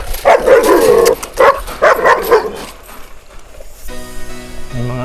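Several dogs bark and yip in quick bursts at close range on a rural ride in Rizal, Philippines, followed by quieter whimpering and a faint tonal hum.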